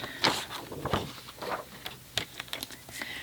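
Patterned paper being cut on a paper trimmer for a craft box: close, soft scraping slides and light clicks and taps in a short, irregular sequence.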